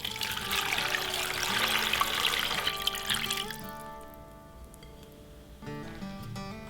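Water pours from a tap over onion, carrot, garlic, ginger and dried shiitake in a pot for ramen broth, a rushing gush that stops midway, followed by faint tones and quiet drips.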